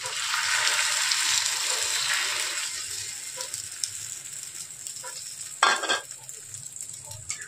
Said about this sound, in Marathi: आता याच्यात आपण हे मॅगी ऑमलेट टाकून घेऊ